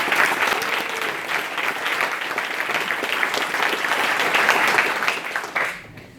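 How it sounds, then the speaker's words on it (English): Sustained crowd applause at a Wikimedia Hackathon showcase, a dense, even roar of clapping that holds steady before cutting off abruptly at the end. "deserves a round of applause from us"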